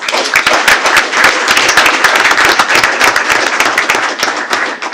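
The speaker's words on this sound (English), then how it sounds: "So let's give a round of applause for Evan" Audience at a school board meeting applauding a student athlete who set a discus record, loud, close and dense clapping sustained throughout.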